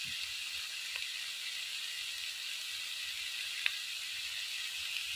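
Ginger garlic paste sizzles in hot oil while frying for a shrimp curry with malabar spinach and eggplant, a steady bright hiss with a few small pops and crackles.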